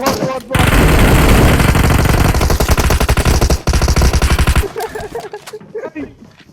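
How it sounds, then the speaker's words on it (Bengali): Sustained automatic gunfire from a PUBG Mobile match, loud and dense bursts that break into rapid staccato shots, with a brief gap and then fainter scattered sounds trailing off. "গুলি লাগে"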